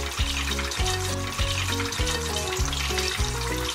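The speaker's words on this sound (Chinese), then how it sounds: "鸡腿下锅后还是炸10分钟。" Chicken drumsticks deep-fry in a pot of oil, giving a loud, dense, continuous sizzle and bubbling close up, with a steady mechanical pulse running underneath and no voices.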